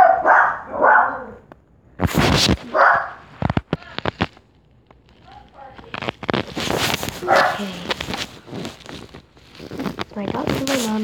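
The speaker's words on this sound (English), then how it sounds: "Those are my dogs" Dogs bark in sharp, irregular bursts, some close and loud, others yapping, with a person talking in between.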